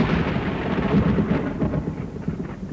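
Rolling thunder with steady rain from a lightning storm, a dense continuous rumble with no distinct crack, loud and close throughout.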